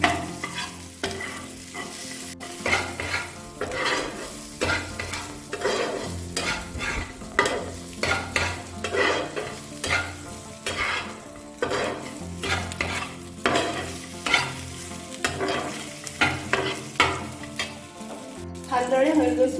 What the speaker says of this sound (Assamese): এতিয়া ভালদৰে ভাজি ল'ম